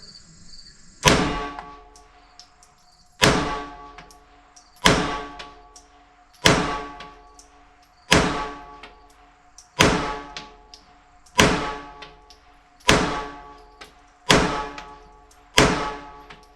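Ten .380 ACP shots from a Sig pistol fired at a target at a steady, evenly spaced pace, each a loud sharp crack with a decaying tail and quiet gaps between.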